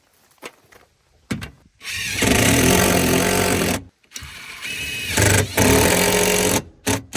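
Powered screw driving while mounting a non-fused disconnect switch box to a wooden 2x4 girt on a post-frame hunting cabin wall: several loud, sustained motor whirs in bursts with short pauses between them.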